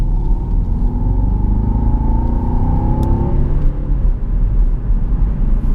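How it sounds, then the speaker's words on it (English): A Jaguar XF 5.0 V8 S in sport mode gives a loud, deep engine blip, the revs rising and then falling away over a heavy low rumble heard from inside the car, with no talking. "I'll just put this in sport and give it a blip"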